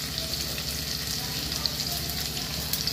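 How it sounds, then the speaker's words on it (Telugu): Onions fry in a pan for a tomato curry, giving a steady, close sizzle and crackle with a constant hiss throughout. "ఇప్పుడు ఆనియన్స్ వేసుకోవాలి."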